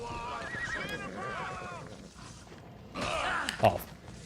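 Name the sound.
horse neighing in the video game Assassin's Creed Odyssey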